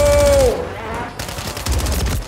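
Gunfire from a shooter video game rings out in quick bursts: a loud rapid crackle of shots with a ringing tone fading at the start, then further clusters of shots, close and punchy.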